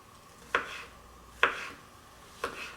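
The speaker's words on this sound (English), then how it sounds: "The mushrooms, I'm just giving them a rough chop too." A knife rough-chops mushrooms on a board: three separate, crisp cuts at uneven intervals, close and fairly quiet.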